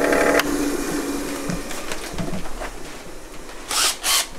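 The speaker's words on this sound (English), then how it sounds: "So I'm going to go to my grinder. Carefully just shorten that a little bit" Bench grinder shortening a small metal part of a wheel marking gauge: brief grinding contacts, a longer burst at the start, scattered touches, then two short loud bursts near the end, with no speech.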